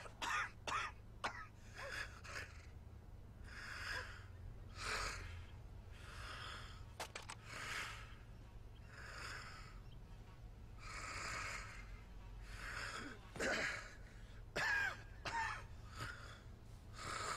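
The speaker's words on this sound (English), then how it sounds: "I love that breathing sound." Heavy character breathing in Red Dead Redemption, rhythmic rasping inhales and exhales repeating steadily for several seconds over a low game background hum.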